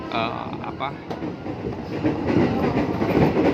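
Heard from inside, an aging JR 203 Japanese-built commuter train on the Tanah Abang–BSD line rattles and rumbles along the rails. The wheels clack steadily, growing louder toward the end, with a voice speaking briefly at the start.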